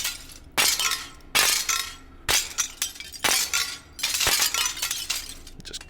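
Window glass repeatedly smashed by melee weapon strikes in the VR shooter H3VR, a series of loud, sharp shattering crashes with tinkling debris, about six breaks in quick succession with no talking.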